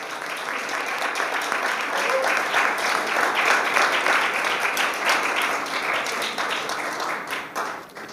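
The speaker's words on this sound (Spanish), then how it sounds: "Un aplauso, por favor." An audience at a university innovation awards ceremony applauds steadily for several seconds, a dense, even wash of clapping that tapers off near the end.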